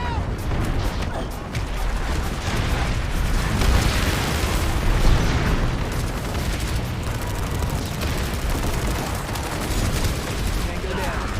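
Grenade explosions in the video game PlanetSide 2 form a loud, dense barrage of booming blasts that blur into a continuous rumbling roar for the whole stretch.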